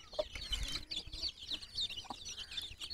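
Hens and their chicks in a coop give off continuous cheeping and soft clucking, a busy overlapping chatter close by with occasional shuffling bumps.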